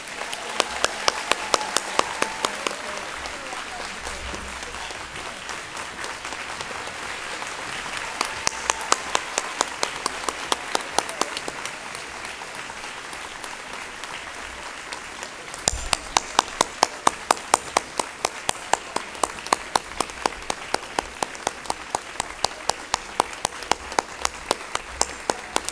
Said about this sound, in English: Let us give them one last round of applause with our thanks.